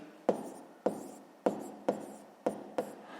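Pen or pencil writing numbers on paper, six quick scratchy strokes spaced at an even pace, close and fairly quiet with nothing else audible.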